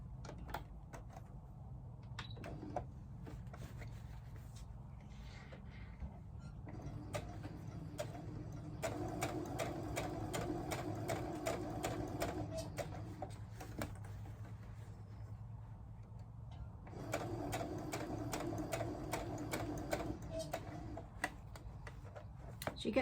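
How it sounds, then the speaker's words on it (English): A sewing machine stitching around the inside of a pouch lining, running in fast, steady rhythmic bursts with short pauses between them, close by, over a low background hum. "Now all we're going to do now is just stitch around the inside 1/4 inch all the way around."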